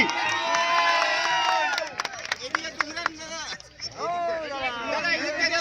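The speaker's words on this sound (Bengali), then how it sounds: "সবাই মাঝিদার জন্য জোরে হাততালি।" A crowd at an outdoor fishing competition cheering and shouting together, loud excited voices and whoops overlapping in a lively burst, with a brief dip before the cheering picks up again.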